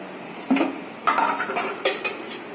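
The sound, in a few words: pan placed on the stove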